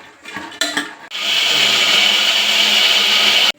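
A mixer grinder grinds masala for avarekalu sambar: after a few short clatters and stops, the motor runs loud and steady with a high whir for about two and a half seconds, then cuts off abruptly.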